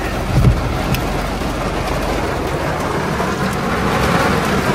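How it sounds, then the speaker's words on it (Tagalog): Heavy rain pours down during a typhoon at a housing subdivision in San Jose Del Monte, a dense, loud, continuous hiss of drops drumming on surfaces, with no talking. "Tignan niyo yung anong lakas sa ulan guys, oh."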